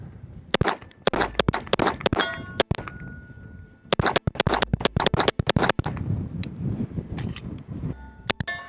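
Rapid fire from a SIG Sauer P226 X-Five Legion pistol: loud, sharp cracks in two fast strings with a pause between them, and ringing metallic clangs trailing after the shots. No one speaks.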